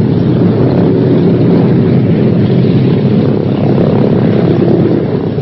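The propeller engines of a B-17 bomber run at a loud, steady drone on the ground near the runway, a dense continuous roar with no break.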